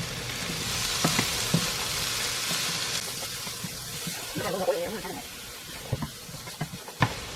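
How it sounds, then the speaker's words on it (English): Minced garlic sizzling in a pan as it is stirred, a steady hiss with a few scrapes and knocks of the utensil, while a person talks over it. "Put that in there, along with 2 teaspoons of minced garlic. Right here. Stir all this up real quick."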